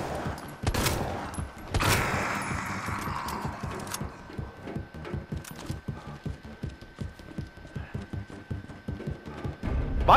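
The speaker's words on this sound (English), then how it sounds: "that machine gun is the MP3, I think" Rapid machine gun fire from the MP3 in the Resident Evil 2 remake, a loud sustained burst of closely spaced shots that runs through the whole stretch, opening with a couple of heavier blasts and keeping a steady clattering rhythm to the end.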